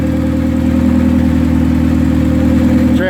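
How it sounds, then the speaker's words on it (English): Hyundai Tiburon car engine running steadily at idle, a loud, continuous low rumble with a throaty, even drone throughout and no talking. "Car sounds like a beast."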